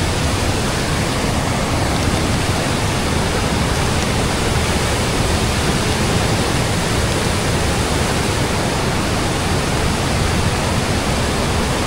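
Rain-swollen water rushes down and crashes against rocks, making a loud, unbroken roar that fills the whole scene with no voices.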